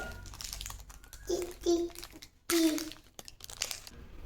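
Crinkly plastic candy wrapper being torn open in a home, with a few sharp crackling bursts and rustles close by, while soft voices, including a child, murmur around it.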